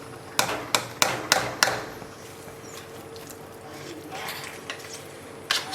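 Shrimp being stirred into Creole jambalaya in a pan, opening with five sharp spoon knocks against the cookware in quick succession, then quieter scraping and occasional clicks over a low simmering hiss.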